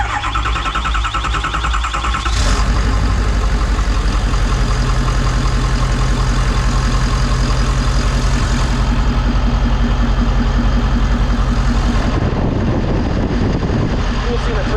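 A 6.7 Powerstroke diesel cranking after fuel-system priming, a loud, steady mechanical churn of the starter and engine running unbroken for the whole stretch, close up, with voices faintly mixed in.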